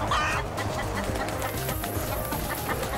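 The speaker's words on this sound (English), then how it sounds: "We got a chicken with us!" A chicken clucks in Black Ops 3, with short repeated clucks sitting over a busy bed of game music and noise, and faint speech nearby.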